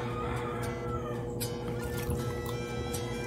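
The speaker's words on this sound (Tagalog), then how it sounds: "Tapos, punuin lang natin ng konti ng tubig." Water trickles and pours steadily into a plant propagation container holding cuttings of a Scindapsus pictus Silver Lady, a soft continuous liquid splash close by with no talking.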